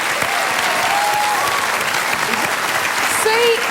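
A studio audience at a comedy panel show claps steadily and strongly throughout, with faint voices mixed in.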